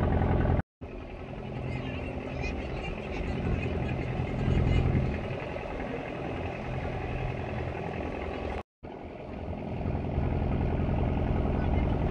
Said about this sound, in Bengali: রামগঙ্গার ঘাট থেকে এই সবেমাত্র লঞ্চ ছাড়লো